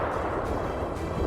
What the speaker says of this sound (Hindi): ये रूस की सेल्फ प्रोपेल्ड आर्टिलरी MSTA है, जिसमें 152 मिलीमीटर की तोप लगी है।